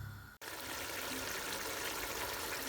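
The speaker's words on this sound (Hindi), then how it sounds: "अब मैं इसमें ये यखनी सारी शामिल कर देती हूँ" Yakhni stock pours into a cooking pot for a Mughlai pulao, making a steady, soft, continuous splashing gush that begins after a brief pause and runs on alone without talk.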